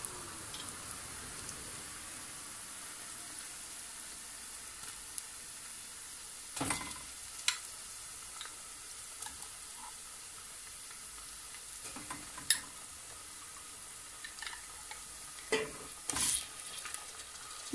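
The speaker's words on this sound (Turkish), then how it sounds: "kavuruyoruz soğanla salçayı" Onion and tomato paste sauté with tarhana in a pan, a soft, steady sizzle broken by occasional sharp clicks and scrapes of stirring.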